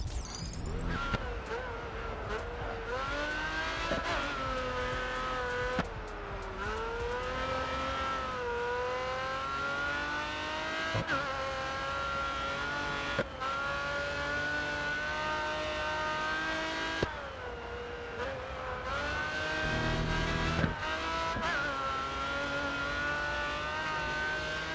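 Pagani Zonda race car engine revving in Grid Autosport, a loud continuous howl sweeping up and down through gear changes, with short clicks between shifts and brief tire noise.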